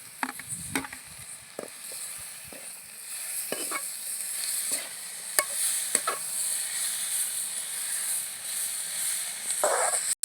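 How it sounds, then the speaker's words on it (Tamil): Tomatoes sautéing with onions in a pan for onion tomato chutney, a steady soft sizzle and hiss broken by occasional clinks and scrapes of stirring. "அங்கே வந்து வெளில தக்காளி வதங்கிட்டு இருக்கு"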